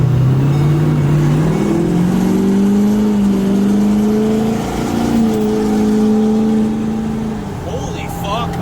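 A 4th gen vehicle accelerates hard onto a highway, its engine note climbing steadily in pitch through the gears with a loud, continuous roar, and a voice briefly exclaims near the end.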